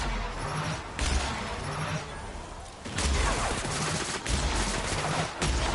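A charged gun fires in Borderlands-style DLC combat, Murder on Eridanos, heavy booming discharges at about one-second intervals over a constant roar of game noise, with other crashes mixed in.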